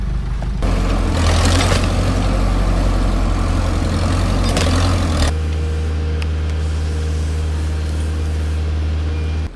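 An old Caterpillar D2 bulldozer engine, number 7066, roars loud and close in a steady heavy drone while pulling a stump, its tone shifting partway through.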